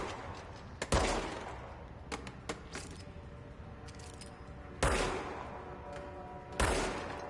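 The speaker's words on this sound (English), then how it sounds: "What if I shoot these speakers?" Gunfire in the video game Control as shots hit loudspeakers: three sharp, loud bursts spaced apart, with smaller clicks and rattles between them.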